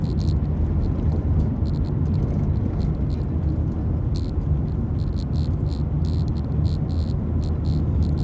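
Car driving at night on springs, a steady close low rumble of engine and road noise with no talk.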